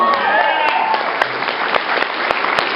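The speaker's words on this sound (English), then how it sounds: "All right, round of applause for" A Comic Con panel audience breaks into applause for actor Sean Patrick Flanery, dense clapping filling the short moment under a raised voice.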